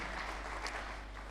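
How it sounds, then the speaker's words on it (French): A church congregation applauding together during a sermon, a steady, even wash of clapping that stays soft and slightly distant throughout the short stretch. "J'aimerais qu'on acclame la parole du Seigneur"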